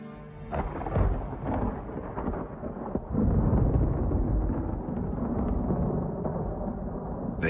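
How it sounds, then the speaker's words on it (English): Thunder rumbles during a monsoon storm on the savanna, deep rolling booms that swell and fade over a steady hiss of rain, fairly distant, with a heavier crack and roll partway through. "Thunder in the distance."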